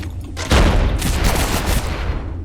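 Rapid gunfire from a gun in the game Abiotic Factor, a loud sudden burst of shots that rattles on steadily for about two seconds with no voice over it.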